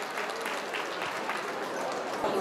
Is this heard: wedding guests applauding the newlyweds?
yes